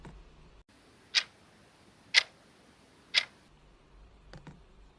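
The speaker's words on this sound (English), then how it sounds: "The sound of the clock's second hand gets on my nerves." A clock's second hand ticks three times at an even one-second pace in a quiet night scene from the visual novel Tsukihime, each tick crisp and close, followed by a couple of softer clicks.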